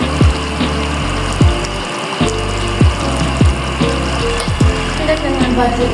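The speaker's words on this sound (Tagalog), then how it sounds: "So, lalagyan natin ng a little bit of water." A little water poured into a pot of Filipino menudo, heard as a close, splashing trickle with repeated bubbling gulps and a short gap partway through; a voice speaks at moments over it.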